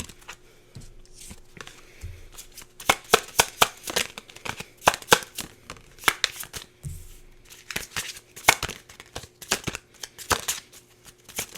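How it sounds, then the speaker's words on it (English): Tarot cards being shuffled and pulled from a deck, a quick series of crisp riffling and snapping bursts, close and fairly loud, with short pauses between and no talking. "I'm just going to pull some other cards here."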